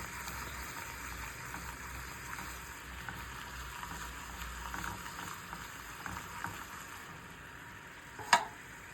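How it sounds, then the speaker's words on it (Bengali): Lachha semai vermicelli frying in a little ghee gives a faint, steady sizzle with scattered soft scraping, then a single sharp clack near the end; no one speaks. "এই লাচ্ছা সেমাইটাকে আমি একটুখানি ঘি দিয়ে ভেজে নেব।"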